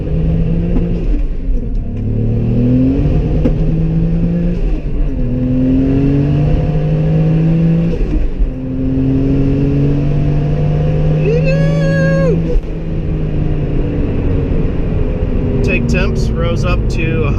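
Heavily modified 700 whp twin-turbo Toyota Supra with a slipping clutch pulling hard on a wet road, a loud continuous engine roar climbing in pitch through gears, with someone talking over parts of the run.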